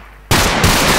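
An AK-47 in Minecraft 1.8 opens up abruptly in a dense, continuous burst of rapid shots, loud and close, sounding like game gunfire.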